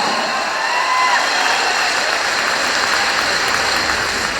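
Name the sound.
audience applause with raised hands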